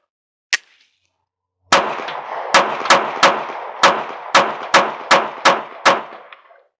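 A Smith & Wesson Bodyguard 2.0 pistol fires one loud shot, then after a pause a fast string of about ten sharp, echoing shots with ringing tails, with no one talking.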